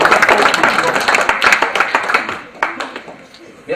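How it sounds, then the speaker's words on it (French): Children clap at a magic show, a lively burst of close, sharp handclaps that gradually thins into scattered individual claps toward the end. "On les applaudit tous les deux."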